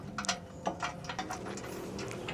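A hand ratchet clicks in quick bursts, driving a bolt through during a bumper install on a 2024 Toyota Tacoma, the pawl ticks close and clear with no talk.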